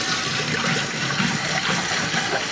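Water runs steadily through the nozzle of a one-gallon home beer brewing kit, a continuous close gushing flow with no break and no talking.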